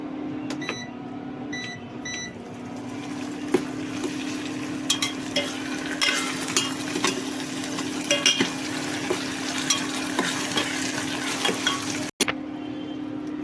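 Dal is stirred in a pan over a constant low hum, with soft sizzling and a run of scrapes and taps from the spoon, up close and no one speaking.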